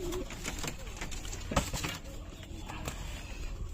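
Pigeons coo nearby in a short, soft run of throaty calls over a constant low hum, with a sharp knock partway through and faint background voices.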